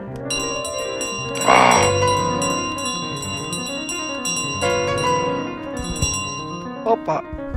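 Bell jingling in Untitled Goose Game, a bright metallic ring rising in a loud burst near the start, then lighter chimes over steady game music, with a few sharp clatters near the end.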